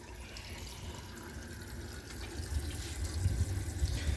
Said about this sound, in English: let's add some water to the bowl first